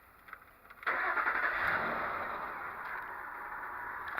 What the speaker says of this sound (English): I'm now going to start the vehicle up and see if I can get it to stall.